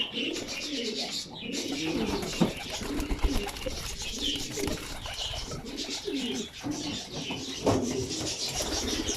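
Domestic pigeons coo steadily and close by, their low throaty rolling calls overlapping throughout, with some light rustling and no talk.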